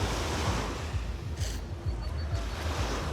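Waves rolling onto the beach at Iberostar, Playacar, a steady broad wash of surf mixed with wind rumble on the microphone, continuous and fairly loud with no speech.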